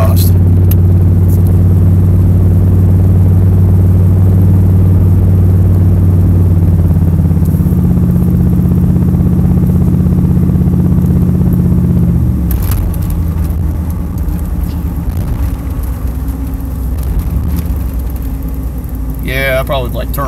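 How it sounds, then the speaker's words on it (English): A GMC Yukon with glasspack mufflers drives along, its exhaust giving a loud, steady low drone that shifts pitch partway through as the engine changes speed, with occasional rattles near the end. "you probably hear me over the exhaust"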